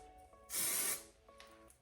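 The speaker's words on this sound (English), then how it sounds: "And I spray that little piece that I was telling you about so that doesn't go up." Calista Marathon Long Life hairspray gives one close, loud spray burst lasting about half a second, with faint background hum before and after.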